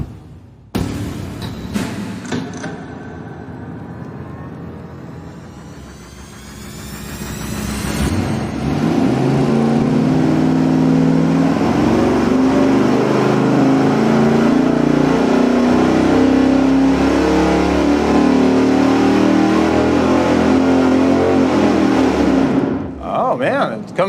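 A car engine on a dyno is revved through a test run, climbing from a rough idle into a loud, sustained high-rpm roar that holds for over ten seconds before cutting off, with voices faintly underneath.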